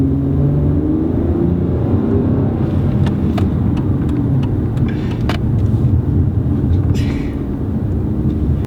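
Dodge Challenger SXT engine pulling under acceleration, a steady loud low rumble and drone throughout with faint higher clicks, no one talking over it.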